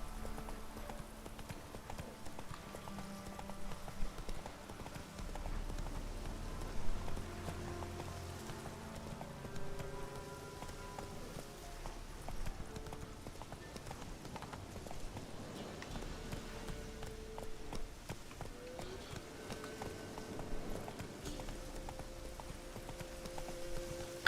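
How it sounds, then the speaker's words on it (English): Horse hooves clip-clop steadily in a video game while a wild horse is being tamed, a continuous galloping rhythm running beneath game music for the whole stretch. "I'm trying to tame a wild horse."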